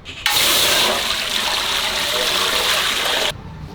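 Water poured steadily into a cooking pan while preparing a tomato and capsicum dish, a continuous broadband splashing rush lasting about three seconds, close and fairly loud, starting and stopping abruptly.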